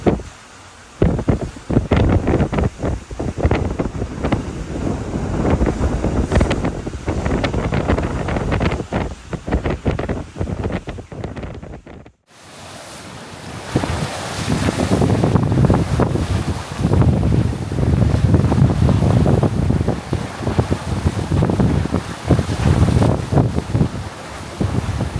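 Strong wind buffets a sailing boat at sea off Scotland's west coast near the Isle of Skye, a loud continuous rushing roar with gusty flutter. It cuts out briefly midway, then returns just as hard.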